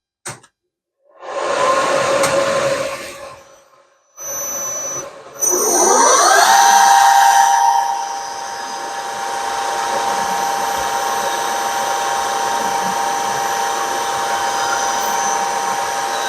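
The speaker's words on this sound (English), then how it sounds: "I'm just about to start the end milling" Loud machining whine of a milling machine end milling steel starts in short bursts, then a rising tone settles into a steady, sustained high-pitched cutting drone with no talking.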